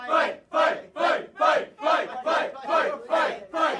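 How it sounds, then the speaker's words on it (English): An animated crowd chants in a steady rhythmic beat before a fight, about eight loud, evenly spaced shouted syllables repeating one after another without pause. "Oh, the crowd are chanting for us?"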